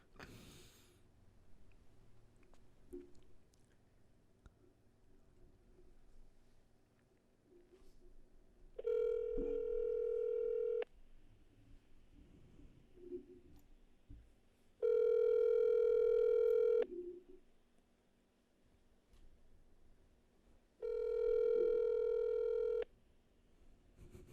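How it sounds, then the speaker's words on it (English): Three long electronic telephone ring tones sound at a steady interval, separated by quiet gaps with faint background noise and no talking. "I'm going to call the Trump supporter"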